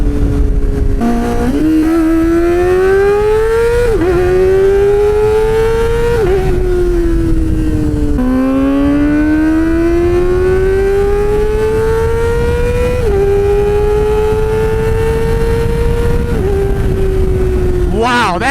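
A Kawasaki ZX-4RR sport bike without exhaust baffles screams loudly through repeated full-throttle runs, its pitch climbing then dipping at each gear change, an intense continuous wail close by.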